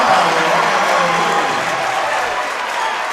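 A basketball crowd in a college gym cheering and applauding after a dunk, a loud sustained roar of claps and voices that slowly eases off.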